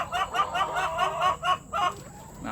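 Laying hens on a poultry farm cluck in a busy, repeated series of short calls, close and fairly loud, with no talk.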